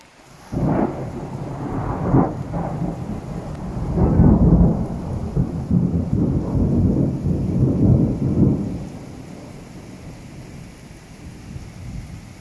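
Thunderstorm with heavy rain: several deep, rolling thunder rumbles in quick succession over a constant hiss of downpour, with the rain continuing alone as the thunder fades.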